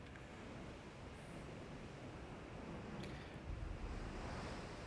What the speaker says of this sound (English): the weather kind of sucks, doesn't it? They're just bad waves.